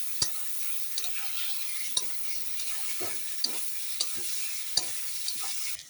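A spoon stirs boiled peas into spices in a hot pan, making a rhythmic scraping about once a second over a soft, continuous sizzle.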